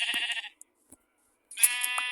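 Two bright, nasal sheep bleats in Minecraft, one at the start and another near the end, separated by near silence with a couple of small clicks as the sheep are sheared.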